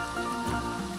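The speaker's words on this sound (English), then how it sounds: "of course it starts raining again." Steady rain falling in the zoo-building game Planet Zoo, a dense continuous hiss with no clear individual drops, moderately loud and filling the whole second without any talking.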